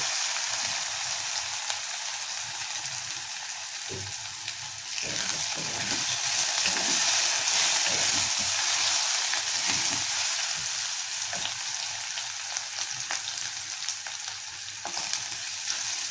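Water spinach with a little turmeric fries in a pan, giving a steady, close hiss of sizzling oil with occasional scraping stirs, alone with no talk throughout.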